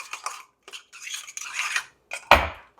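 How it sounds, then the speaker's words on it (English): A spoon stirs sugar into mug brownie batter, scraping and tapping against the mug in several short, uneven strokes, ending with a sharp clink, close and quiet with no talking. "Go ahead and give that a nice stir."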